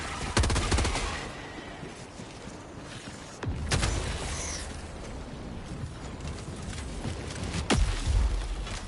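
Gunfire from a fast-firing weapon in Helldivers 2, with a burst near the start and more shots later, over a steady wash of combat noise. No one speaks.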